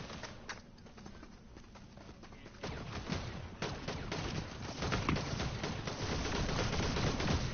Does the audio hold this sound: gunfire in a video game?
yes